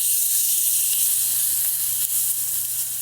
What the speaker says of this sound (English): Start by searing my steak.